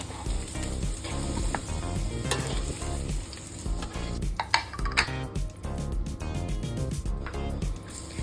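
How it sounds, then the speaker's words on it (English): Carrot and potato chunks pan fry with a steady close sizzle, broken by clinks and scrapes of a utensil against the pan, with faint background speech. "thing to do is to pan fry the carrots and the potatoes."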